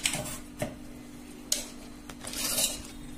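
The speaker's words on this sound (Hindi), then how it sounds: "अब इस जार में डालेंगे।" Soaked, washed urad dal tipped from a container into a steel mixer-grinder jar, giving a few sharp clinks and knocks followed by a short rattling, shuffling pour, close and alone.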